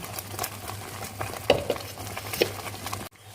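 Rendang chili paste made with cili api, for beef rendang, cooks in a pan, with a soft steady sizzle under quick scraping stirs and a few sharper utensil knocks against the metal, ending abruptly.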